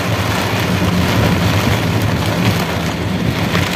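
Heavy rain pounds a car during a storm with strong winds, heard from inside the vehicle as a loud, constant wash of drumming and hiss with a low rumble underneath.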